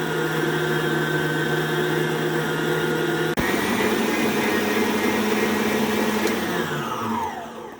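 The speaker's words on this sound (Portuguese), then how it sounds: "Vou ligar a batedeira para a farinha se misturar." An electric mixer whirs steadily as it blends flour and cinnamon for cookie dough, a continuous motor drone close to the microphone whose pitch shifts partway through before it winds down.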